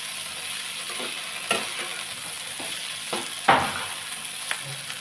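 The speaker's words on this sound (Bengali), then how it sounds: "আদাটা দিয়ে কিছুক্ষণ ভেজে নেব।" Ginger paste sizzles with yardlong beans in a hot pan, a steady close fry broken by a few sharp scraping stirs of the spatula against the metal.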